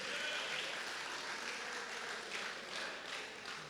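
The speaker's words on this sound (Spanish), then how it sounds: "denle un aplauso a Dios por las mujeres" Congregation applauding during a church sermon, a steady, dense wash of clapping that holds at an even level for the whole stretch with no voices on top.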